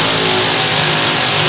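Injected nitro drag racing car at a drag strip, its engine holding a loud, steady, dense roar under heavy clutch load throughout.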